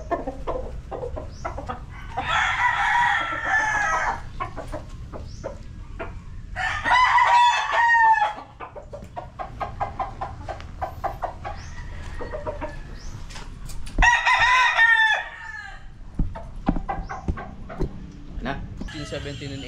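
Straight-bred claret gamefowl roosters, seven months old, crowing at a game farm in Pampanga. Several loud drawn-out crows come in turn, close by, with clucking and people talking between them.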